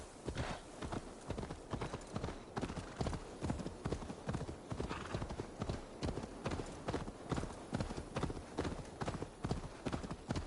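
Horse hooves clip-clop steadily and rhythmically in Assassin's Creed Valhalla, a continuous trotting gait heard up close throughout, with no voices over it.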